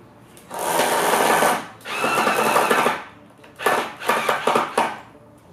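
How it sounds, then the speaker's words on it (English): Cordless power drill driving screws into a homemade studio light fixture built from incandescent and fluorescent bulbs, in three close, loud whirring bursts with short pauses between them and the last burst stuttering. "I'm screwing it with the drill."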